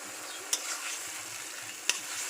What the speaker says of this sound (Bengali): দিয়ে দিচ্ছি টমেটো, এর সাথে কিছুক্ষণ কষিয়ে নেব।